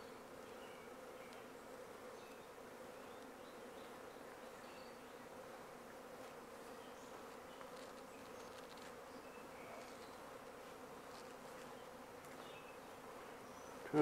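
A honey bee swarm hums steadily near a hive as a beekeeper coaxes it lower, a continuous moderate buzz of many insects holding even through the whole stretch, with no voices.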